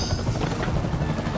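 Steady helicopter rotor thrum from the video game Marvel's Spider-Man, with low, pulsing chop, continuous and fairly loud, with no voices over it.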